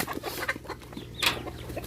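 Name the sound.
chickens clucking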